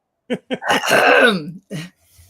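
A couple of short hacking bursts followed by a longer strained, rasping cough and one more cough, close and loud, with no talking.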